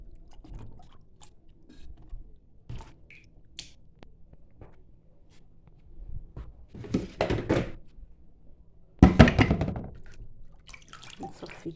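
Lemon-and-salt-soaked chicken cutlets are drained and washed in water. Close, scattered thunks and drips give way to louder splashing and handling bursts toward the end.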